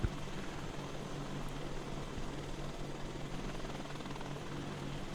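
Steady, dense rotor and engine roar of a Chinook helicopter flying low at night in a flight simulation game, loud and continuous with no talk.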